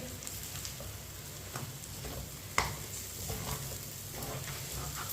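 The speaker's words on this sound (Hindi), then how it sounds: "अब इसमें ड्राई फ्रूट डाल लेंगे, मिक्स कर लेंगे।" Semolina halwa with dry fruits being stirred in a pan over low heat: faint, steady sizzling with soft scraping spoon strokes and one small clink, quiet and close, without speech.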